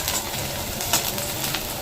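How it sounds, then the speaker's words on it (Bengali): Close, steady sizzle of onion, garlic and panch phoron spices frying in oil for dal tempering, with light crackles and a faint stir, no talking. "একটু পেঁয়াজ দিয়েছি রসুন দিয়েছি আর পাঁচ ফোড়ন"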